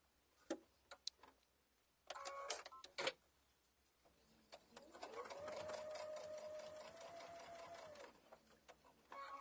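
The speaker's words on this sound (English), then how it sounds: "And then this is the last little bit that you're going to sew." A sewing machine stitches the last seam of a fabric mug bag. A few sharp mechanical ticks and clicks come first, then a steady, close whirring run of several seconds, with faint talk in the background.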